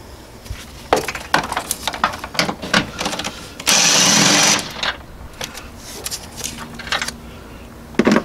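Transmission mount bolts on a 2005 Toyota Corolla are tightened with a ratchet, giving rapid clicking bursts and metallic knocks, plus a loud continuous whirring power-tool run of about a second midway.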